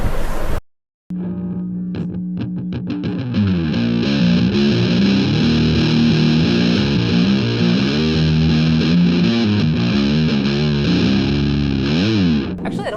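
Electric guitar played through an Earthquaker Devices Zumitas fuzz pedal into an Orange 8030R amp, giving a loud, thick, sustained distorted tone with shifting chords and bends after a brief opening pause.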